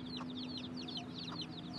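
Feral domestic chickens living around a town on an island cluck softly in a quick, chirpy series of short calls, faint and somewhat distant over a steady low hum.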